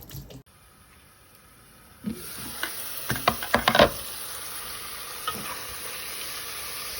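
Fish curry sizzles and fries in a pan, a steady hiss with a cluster of clattering stirring scrapes near the middle, close and fairly quiet, with no talk.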